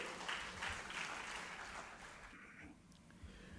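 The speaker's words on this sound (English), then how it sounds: "Ladies and gentlemen, a round of applause" Audience applause for the chief guest at a book launch, a dense wash of clapping that fades after a couple of seconds into quieter room sound.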